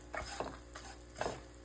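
Sesame seeds, dried coconut and dried red chillies being dry-roasted in a pan, with a steady soft hiss and three or four scraping stirs spaced about half a second apart. No one speaks.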